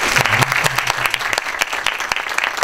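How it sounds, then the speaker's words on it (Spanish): An audience applauds the panelists at the close of a political panel discussion, a loud burst of dense, sharp clapping with distinct individual claps standing out, and a murmured voice briefly under it at the start. "Bien, un aplauso para nuestra..."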